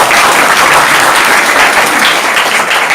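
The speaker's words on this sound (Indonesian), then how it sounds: "Beri tepuk tangan." A crowd at a GP Ansor consolidation gathering in Mimika, Papua breaks into loud, close, sustained applause, the clapping dense and unbroken throughout.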